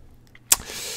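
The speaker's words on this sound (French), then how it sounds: "on va démarrer l'avion" An aircraft engine starts up in Microsoft Flight Simulator 2020 near Arcachon: a sharp click is followed by a steady, rising whir that holds at a moderate level, with no talk.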